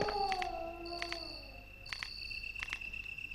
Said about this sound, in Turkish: Köpek sesi.